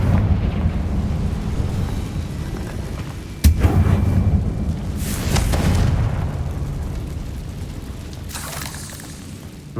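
Spell explosion from the Confringo fire spell in the Hogwarts Legacy video game, heard as a sharp boom followed by a rumbling blast and a second burst, loud against steady game ambience.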